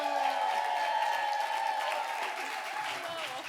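An audience at a storytelling show applauds, with sustained clapping and some voices mixed in, tapering off toward the end.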